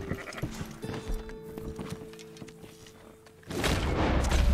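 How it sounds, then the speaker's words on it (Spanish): Sheep bleat in the video game Red Dead Redemption 2, a few nasal calls over game ambience with some thuds, then a louder rushing, rumbling noise takes over near the end. "¡Coño, una oveja!"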